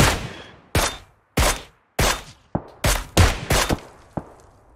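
Loud, sharp gunshots in the video game PUBG Lite crack out one after another, about nine in irregular succession, some spaced apart and others in quick bursts, with no talking.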